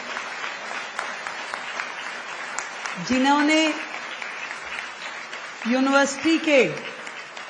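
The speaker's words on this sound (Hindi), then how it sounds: "तो एक बार जोरदार तालियां वीसी महोदय के लिए बजाएं भाई" An audience at a Delhi University felicitation ceremony for Delhi Chief Minister Rekha Gupta applauds the vice-chancellor in a continuous, crowded wash of clapping, while someone speaks loudly over it in two short bursts.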